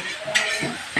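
Food cooks in a pot in a hotel kitchen: a soft sizzle runs underneath while a utensil scrapes and clinks against the metal in two short bursts, fairly quiet and close.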